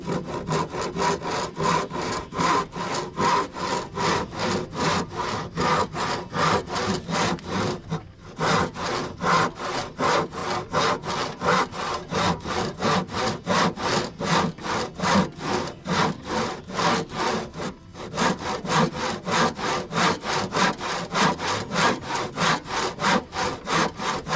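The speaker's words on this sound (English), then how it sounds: "Once you get a good notch going, it becomes a lot easier to keep the saw steady, and it won't be wobbling so much while you're working on it." A handsaw cuts a notch in reclaimed lumber while building a chicken coop, steady rhythmic back-and-forth strokes, close and loud, with two brief pauses between runs of sawing.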